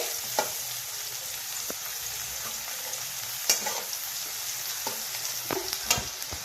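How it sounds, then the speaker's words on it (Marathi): Mustard seeds, cumin and turmeric fry in hot oil in a pan for poha, a soft continuous sizzle broken by scattered sharp clicks and pops as a spoon stirs and scrapes, with no voice. "आणि जिरी सुद्धा आता हळद त्याला मिक्स हलवून घ्यायचे"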